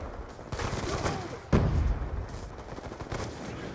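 Gunfire in a Halo match, with bursts of shots and a louder boom-like hit midway, dense and continuous over a busy game background.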